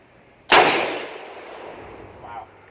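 A single loud, close rifle shot from a SCAR 17S firing Indian military surplus ammunition cracks sharply, then rings out in a long decaying echo across an outdoor range.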